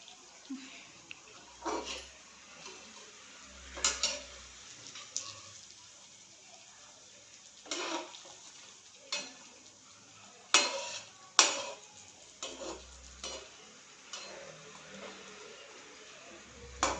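A spoon stirs and scrapes ingredients roasting in a pan for gum (dink) ladoos, making scattered metallic scrapes and clinks at irregular intervals. The sounds are fairly quiet over a low background hum.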